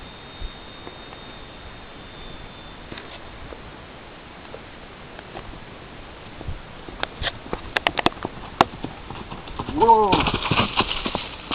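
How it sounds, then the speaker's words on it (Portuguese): A horse cantering in a false gallop on the left lead, with a rhythmic run of hoofbeats that grows more distinct toward the end, under steady background noise and someone talking. "Vou sair com ela na pata esquerda, para que ela possa aprender no galope falso"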